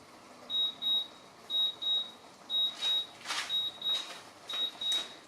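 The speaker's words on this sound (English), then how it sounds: "Just wait for the timer and it'll be done." A kitchen timer beeps in repeated pairs of high, clear electronic tones, about five pairs in steady rhythm, while pork tenderloin and beans cook, with faint clatter between the beeps.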